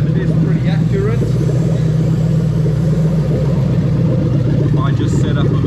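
Toyota UZ VVT-i V8 fitted with individual throttle bodies running steadily after start-up, a close, continuous mid-pitched engine drone with a rapid pulsing texture throughout.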